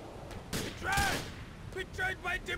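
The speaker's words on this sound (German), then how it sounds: "Von wo kommen die Schüsse her?" Gunfire in the video game GTA IV comes as scattered bursts of shots at moderate distance, mixed with mechanical clatter and game effects, low in level under a muted, busy mix.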